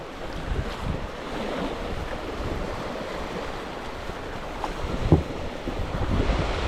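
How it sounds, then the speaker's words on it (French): Small waves wash onto a shoreline at a night fly-fishing spot for sea bass, a steady broadband surf wash with a light splash near the end, no talk. "Il y a de la petite vague pour les voir."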